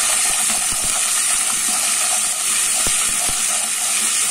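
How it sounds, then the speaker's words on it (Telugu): Ingredients for dal soup fry in hot oil in a pan, giving a steady, close sizzling hiss with scattered soft pops and crackles throughout. "ఇది కూడా నూనెలో ఈ విధంగా ఫ్రై అవ్వాలండి"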